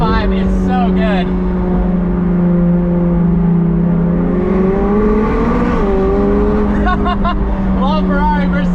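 A McLaren 765LT Spider supercar at speed gives a loud, sustained engine drone with shifting pitch throughout, heard from close range inside or beside the moving car.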